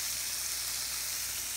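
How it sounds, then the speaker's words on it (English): Yellowtail snapper fillets fry in a hot skillet with a loud, dense, continuous sizzle, close up and steady throughout, with no talking. "You want it to sizzle, want it hot"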